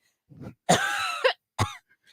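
A few short, rough coughs and a throat clear from a person with tight lungs, close and distinct, separated by brief silences.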